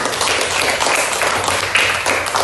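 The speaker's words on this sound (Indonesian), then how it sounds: "Nah, kita beri tepuk tangan." Classroom applause from a group of pupils, dense steady clapping that fills the room for the whole moment.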